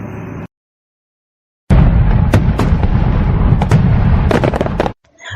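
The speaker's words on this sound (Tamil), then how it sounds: "தீபாவளினாலே பட்டாசு தாங்க" Diwali firecrackers bursting outdoors: after a short lull, a loud, dense string of crackling pops and sharp bangs rattles on for about three seconds, then cuts off abruptly.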